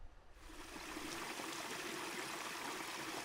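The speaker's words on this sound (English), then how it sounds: "This is the Tarlogie Springs just outside of Tain, Scotland." Tarlogie Springs water near Tain, Scotland, flows in a steady, soft rushing stream, a constant broadband trickle heard alone without voices.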